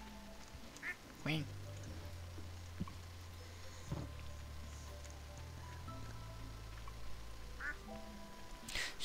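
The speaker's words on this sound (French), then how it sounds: "Il y a des canards." Ducks quack a few times, faint and intermittent, over light rain or water patter and a low hum, with voices talking quietly.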